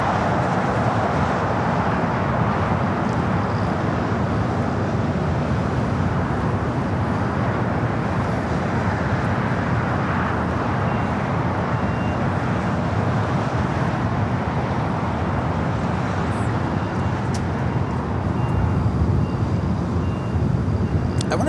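Airliner at LAX heading out for takeoff, a steady broadband jet roar that fills the whole stretch without letup, close and loud, with faint airport background blended in.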